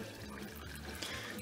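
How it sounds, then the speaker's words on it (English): Oil drains from the filter of a John Deere X738 mower as a faint, steady trickling pour, brief and up close. "But that filter is really draining."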